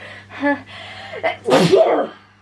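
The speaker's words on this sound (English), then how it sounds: "I'm just about to sneeze actually" A close, loud sneeze preceded by a brief breathy voiced intake, ending in a trailing exhale.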